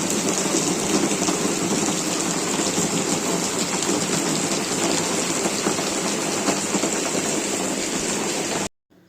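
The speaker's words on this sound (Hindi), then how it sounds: "ये होने लगी है बारिश" Heavy rain pours steadily, a loud dense hiss of drops on surfaces without pause, then cuts off abruptly at the end.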